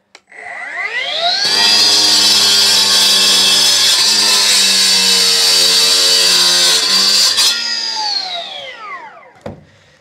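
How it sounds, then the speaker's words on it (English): A power saw spins up and bites into a brick, a loud, close, sustained high-pitched grinding whine lasting several seconds before winding down, followed by a faint knock. "Cutting a brick."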